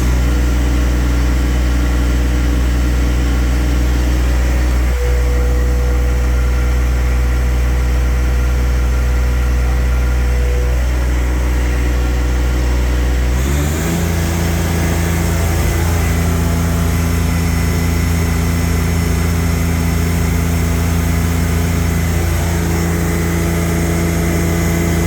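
A John Deere 1025R compact tractor's engine idles in a steady close drone, then is revved up midway to a higher, louder sustained pitch that holds to the end.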